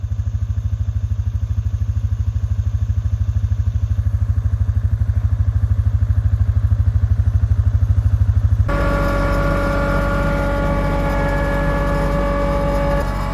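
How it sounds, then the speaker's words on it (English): A Kubota tractor's diesel engine runs steadily and loud from inside the cab, a dense rhythmic chugging drone that abruptly shifts to a brighter, clattering tone with whining mechanical overtones partway through. "A little loud in this Kubota tractor"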